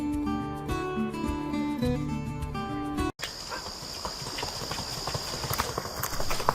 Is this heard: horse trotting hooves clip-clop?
yes